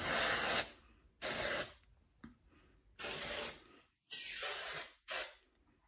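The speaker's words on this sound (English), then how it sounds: "A splash of spray to give it a little bit of texture before we start pulling things apart." Five short hissing bursts of aerosol spray, each lasting about a second, separated by brief silences, close and fairly loud.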